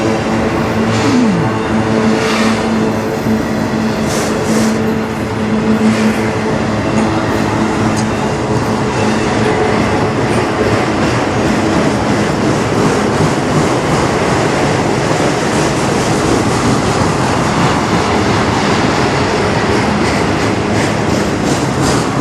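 A CN M382 manifest freight train rolls steadily past in Sarnia, its cars giving a continuous rumble with rhythmic clickety-clack of wheels over rail joints, loud and close throughout.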